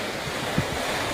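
Sea waves washing near a shore, a steady broadband wash with wind buffeting the microphone, no voices.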